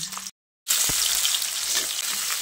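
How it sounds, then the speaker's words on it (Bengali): Washed, cut potatoes hit hot oil already sizzling with five-spice seeds, bursting into a loud, steady, close sizzle after a brief silent gap, with no voice. "কেটে ধুয়ে রাখা আলুগুলো দিয়ে দিচ্ছি"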